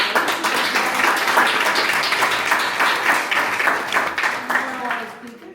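An audience clapping together, a dense run of hand claps at even loudness that fades away toward the end, with a few voices mixed in.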